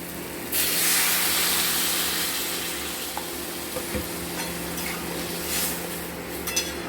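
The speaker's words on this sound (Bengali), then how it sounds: "মশলাটা আমাদের কষা হয়ে গেল, এবার জল দিয়ে দিই।" Water poured into a pan of spiced vegetable bori curry hits the hot masala with a sudden loud sizzling hiss, then settles into a steady bubbling simmer, with a couple of light utensil clinks.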